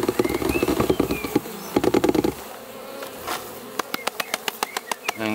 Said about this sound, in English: Next step is to shake some bees into the bucket.